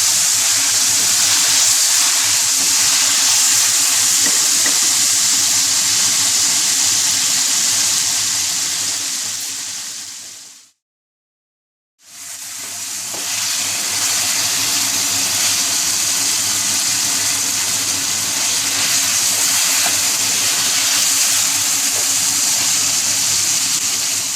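Masala frying in oil in a pan for aloo chicken curry: a loud, steady, hissing sizzle that drops to silence for about a second midway, then resumes just as strongly.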